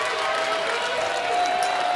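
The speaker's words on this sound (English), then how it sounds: "Abbey Daniels gets a great ovation from the crowd, and well-deserved" A poker final table crowd at the Seminole Hard Rock Showdown applauds player Abbey Daniels, a steady dense wash of clapping throughout with faint cheering.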